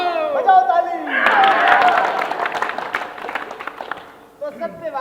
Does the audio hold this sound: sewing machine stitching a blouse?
no